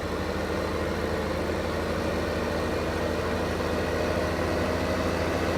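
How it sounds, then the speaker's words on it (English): Tractor engine in Farming Simulator 2015 runs at a steady, constant rumble from start to finish, heard alone with no talking. "Oh, listen to that tractor. I love this tractor."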